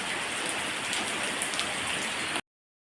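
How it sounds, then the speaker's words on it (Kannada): Heavy rain falls steadily at a house seen from the doorway, a dense, even hiss of drops on surfaces, close and continuous, with no talk, before cutting off abruptly. "ಮಳೆ ನೋಡುವವ್ರು ನೋಡಿ"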